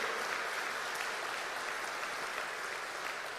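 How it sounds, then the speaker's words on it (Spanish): A church congregation applauds at a sermon, a dense, even wash of clapping heard from a distance that holds steady for a few seconds, with no one speaking. "Un aplauso más grande si es para el Señor"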